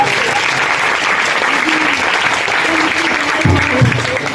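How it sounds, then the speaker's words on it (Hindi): Loud, dense applause from a large audience at a religious speech gathering, continuous for several seconds with a faint voice briefly rising near the end. "खुदा के खादम के लिए जोरदार ताली बजा दीजिए"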